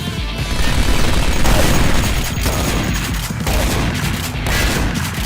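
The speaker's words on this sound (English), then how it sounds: "Who's doing the shooting?" Rapid, loud gunfire from the first-person shooter Duke Nukem: Alien Armageddon pounds almost continuously, layered bursts and booms overlapping with no pause.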